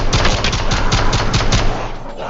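Rapid gunfire from a zombies video game, a run of about eight loud, evenly spaced shots that stop abruptly, with no talking.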